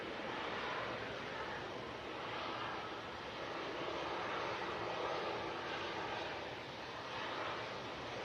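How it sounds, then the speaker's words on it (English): A TUI airliner roars steadily through its takeoff run at Manchester Airport, a broad, continuous jet engine rumble that holds loud and even for the whole stretch with wind noise mixed in. "No messing around there from that TUI. See how long it takes for it to rotate."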